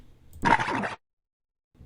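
Fuecoco, the fire-type croc Pokemon from the video games, gives a single short, raspy cry of about half a second, fairly loud and followed by silence.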